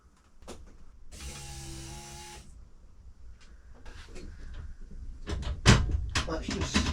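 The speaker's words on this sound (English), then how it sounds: "let's give it a turn and see if we can hear the pump fire up" Fuel pump on an Audi 80 priming as the ignition is turned, a steady whine with tonal bands lasting about a second, set among clicks and handling noises from inside the car.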